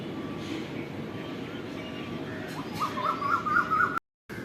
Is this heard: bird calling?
yes